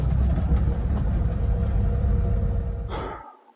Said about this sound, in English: an old Army Jeep can run really well on an SU carburetor